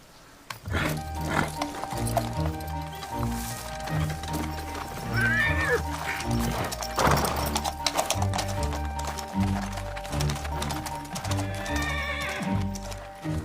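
A horse neighs and whinnies with clip-clopping hooves, a rider on horseback moving off at a gallop; hoofbeats and whinnies carry over a steady background for the whole stretch, fairly close and loud.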